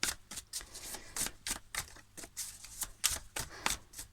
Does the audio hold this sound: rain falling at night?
no